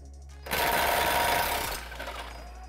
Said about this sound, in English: Use a 21mm socket to remove the lower track bar bolt.